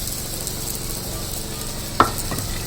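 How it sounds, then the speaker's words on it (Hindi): A paratha frying in a hot pan as oil is added gives a steady, close sizzle throughout, with one sharp clink or tap near the two-second mark. "चलिए जी ये ऑयल भी डाल देते हैं।"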